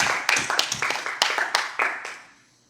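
Short round of hand clapping for a musician at a Sunday service, a few sharp close claps in an uneven burst that fades out after about two seconds.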